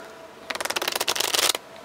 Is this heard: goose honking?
no